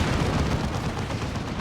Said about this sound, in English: Rocket run coming in.